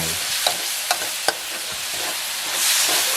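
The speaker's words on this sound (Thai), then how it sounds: "เสร็จแล้วนะครับก็คือผัดนะครับ ให้เข้ากันดี" Minced pork with basil, stir-fry sauce and glass noodles frying in a pan, a steady close sizzle marked by three sharp scrapes of the spatula, then a louder hiss near the end.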